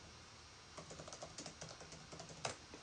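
A computer keyboard clatters with quick, faint, irregular keystrokes for a few seconds, close by and quiet, with no voice over it.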